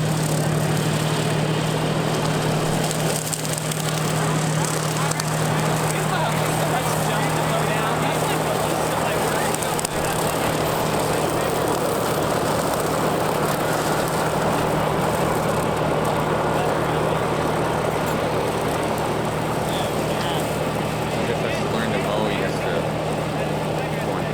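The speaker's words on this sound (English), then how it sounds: "Let's see if it starts mowing now." A loud, steady tractor engine drone runs throughout with a constant low hum as a 12 ft rotary cutter mows tall grass continuously close by, no clear speech.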